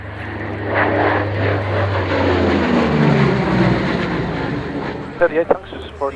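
A propeller plane drones loudly overhead, its engine roar swelling and fading as it passes, with a few brief bursts of voices near the end.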